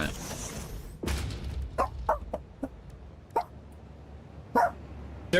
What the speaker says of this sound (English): There's nothing you're barking at.